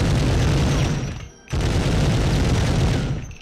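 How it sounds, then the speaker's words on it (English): A grenade blast in the Medal of Honor game's Rjukan hydro plant mission, heard as a loud, dense burst of booming that drops out briefly before an equally loud roar of explosion and gunfire-like noise continues. "That's a nade."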